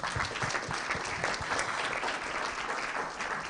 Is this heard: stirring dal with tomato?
no